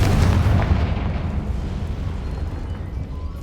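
Confringo blasting spell cast in the Hogwarts Legacy video game, a loud booming explosion that hits at once and rumbles away into a decaying roar over a few seconds, with no talking.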